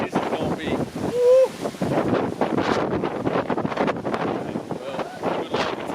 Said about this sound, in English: It is very windy out there.